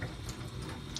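Tap water runs steadily into a sink while makeup brushes are washed, a continuous close hiss and splash filling the whole short stretch with no one speaking.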